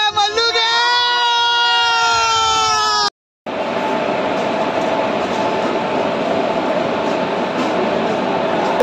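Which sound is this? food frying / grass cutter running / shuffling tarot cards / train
train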